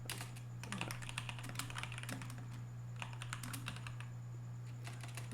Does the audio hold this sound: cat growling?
no